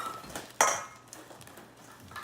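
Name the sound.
mixing cookie dough in a bowl with utensils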